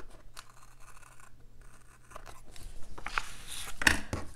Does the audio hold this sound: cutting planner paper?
yes